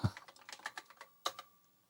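Quick, light taps on an Apple II Plus keyboard with a faulty M key, a run of keystrokes with a short pause before a few more, close and fairly quiet.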